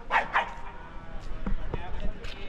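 Dogs barking and yipping outdoors near a train route between Rayagada and Visakhapatnam, a couple of sharp barks at the start followed by scattered fainter yelps among background noise and voices.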